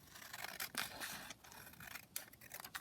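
Scissors trim a section of book pages for a junk journal pocket, giving repeated close, crisp snipping and slicing strokes through paper, several cuts in quick succession with brief pauses between them.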